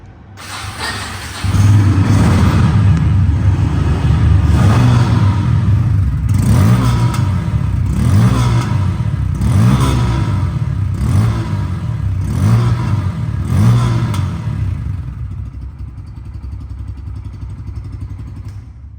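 A Bajaj Pulsar N160 ABS fuel-injected motorcycle, 6,000 km on the clock and in showroom condition, idles and then revs repeatedly in rhythmic bursts, loud and close, before settling back toward a steady idle.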